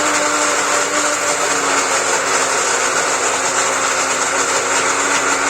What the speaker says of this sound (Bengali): আমি আরও মশলা ব্লেন্ড করতেছি রাতের রান্নার জন্য